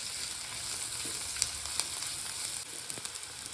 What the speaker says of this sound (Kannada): ಒಂದು 2 ನಿಮಿಷ ಈರುಳ್ಳಿ ಚೆನ್ನಾಗಿ ಫ್ರೈ ಆಗಬೇಕು